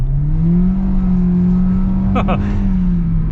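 A 2023 Hyundai Venue Limited, front-wheel drive with a CVT, hums with a smooth, steadily rising tone as it accelerates, with a brief chirp partway through and a voice talking over it.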